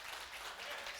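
Church congregation applauding after a service, a steady dense patter of many hands clapping throughout, with no gaps and moderate loudness.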